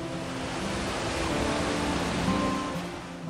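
Rough sea waves break along the Jeju coast where women dive, a continuous loud wash of surf and churning water with no distinct individual crashes and no voices.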